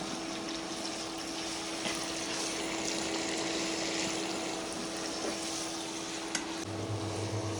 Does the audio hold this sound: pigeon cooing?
no